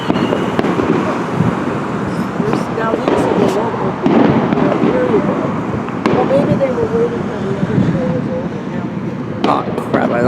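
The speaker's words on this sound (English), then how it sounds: "People setting off fireworks." Fourth of July fireworks pop and crackle in the distance, scattered bursts over a noisy outdoor background with people talking nearby on a roof deck.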